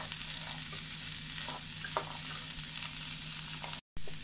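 Green beans for a thoran stir fry crackle in a hot pan while being stirred and mixed, a steady close sizzle punctuated by light scraping strokes and a brief cut-out near the end.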